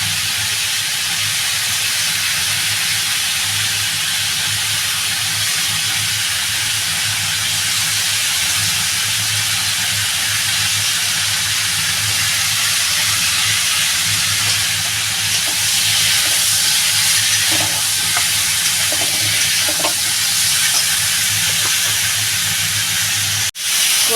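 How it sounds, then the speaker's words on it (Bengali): Potato and kohlrabi sautéing in a pan for a prawn-head and kohlrabi curry give a steady, close frying sizzle and hiss throughout, with a few soft stirring clicks near the end and no talking. "আমার এই যে আলু ওলকপিটা কষানো হয়ে গেছে"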